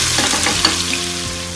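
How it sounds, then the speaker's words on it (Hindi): Chopped ginger and garlic shallow-fry in hot oil, giving a brief, close, continuous sizzle with a light crackle. "अदरक चॉप, लहसुन चॉप ये डालेंगे, थोड़ा सा हल्का सा इनको शैलो फ्राई करेंगे"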